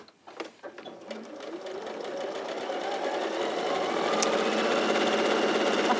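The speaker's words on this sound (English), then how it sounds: "So I'm just going to sew each side of this to hold that in place." A domestic sewing machine runs steadily, stitching down each side of a fabric piece, its motor whirring and needle chattering continuously and growing slightly louder, close by, after a few brief knocks at the start.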